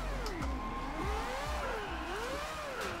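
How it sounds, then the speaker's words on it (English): A Mazda RX8 fitted with a four-rotor engine, in the Forza Horizon 2 racing game, revs loud and close, its pitch repeatedly rising and falling as the car slides through wet, rainy drifting. "that four rotor is sounding absolutely insane"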